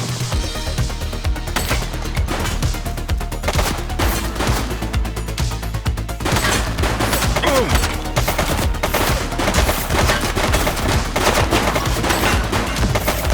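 Dense, loud gunfire in the police video game The Precinct, with rapid automatic bursts and repeated shots layered over a continuous action soundtrack throughout.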